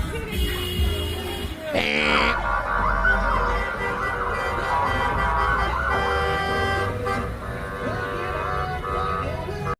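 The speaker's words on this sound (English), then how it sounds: "I think it's just honking from here on out." Car horns honk repeatedly from a passing parade of trucks and limousines, with overlapping blasts of varying pitch amid traffic noise and people talking.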